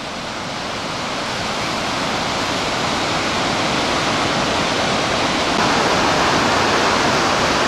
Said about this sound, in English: their water is falling over large and small rocks and creating a lot of noise